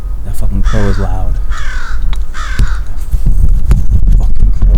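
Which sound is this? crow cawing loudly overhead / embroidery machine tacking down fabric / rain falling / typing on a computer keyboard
crow cawing loudly overhead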